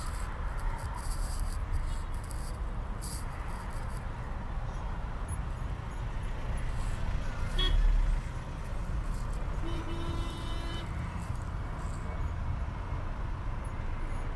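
Heavy road traffic in Egypt, a constant dense roar of vehicles with scattered car horn toots and honks, near and busy, with no voices.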